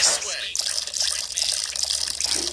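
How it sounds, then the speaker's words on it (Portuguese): A character urinating in the Bully video game: a steady splashing stream of liquid, like water running into a bowl, continuous and fairly close, with talk over it. "Deixa eu dar uma mijada primeiro."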